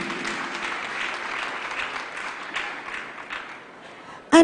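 A church congregation at a holy communion service claps hands together in sustained, dense applause that fills the room at steady loudness, ending with a sudden louder knock.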